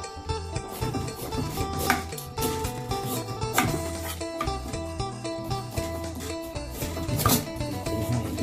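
A knife slicing the hard peel of a winter melon on a large cutting board, producing repeated sharp, close chopping knocks in an uneven rhythm over steady background sound, with no talking.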